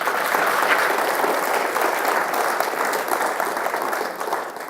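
Audience applause at a space science talk, a dense steady wash of many hands clapping throughout, fairly loud and close, easing slightly toward the end.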